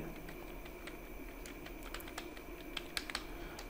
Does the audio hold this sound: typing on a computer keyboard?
yes